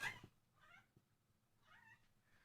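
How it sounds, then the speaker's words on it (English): A house cat meows twice, soft and fairly close, with a short pause between the calls in an otherwise quiet indoor room. "If you hear my cat meowing"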